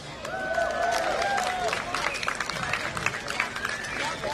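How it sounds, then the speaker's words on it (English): Audience applause at Swampscott's first Juneteenth celebration: steady clapping from a crowd mixed with cheers, whistles and scattered voices, filling the whole moment at a fairly even level. "let's give a round of applause for that"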